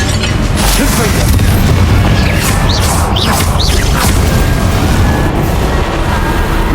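Confringo fire spell explosions in Hogwarts Legacy combat, loud dense booms and crashing bursts layered with whooshing effects, continuous and intense throughout.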